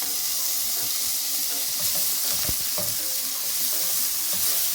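Tomatoes frying in a pan with vegetables and scrambled egg whites, a steady close sizzle with soft stirring scrapes and a few brief clinks, no talking.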